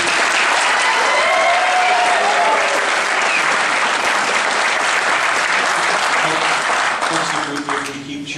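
An audience at a Senate debate applauds and cheers in a sustained loud burst of clapping with whoops, fading toward the end as a voice begins to speak.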